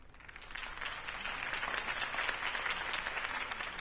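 Steady crowd applause from an audience in a Batman video game, a dense wash of many hands clapping that holds at an even, moderate level for the whole stretch, with no voices standing out.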